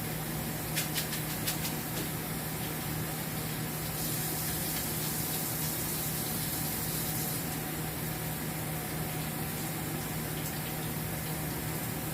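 Hot water poured from a pot while cooking, a continuous hissing splash with a few sharp clinks near the start and a brighter surge in the middle, heard alone.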